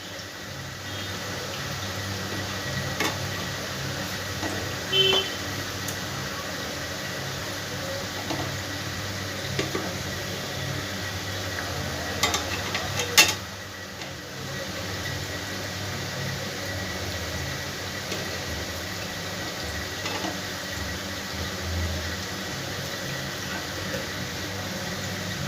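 Sweet potato pantua fries in hot oil, giving a steady low bubbling sizzle throughout with a few sharp clinks and scrapes of a utensil in the pan.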